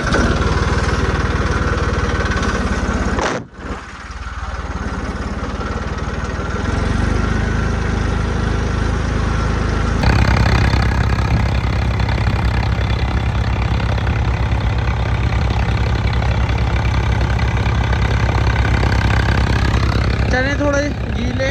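A tractor-driven thresher labours under load while threshing damp, partly green chickpeas in a field, a dense steady engine and machinery roar that continues throughout with a short dip early on and a slight rise midway.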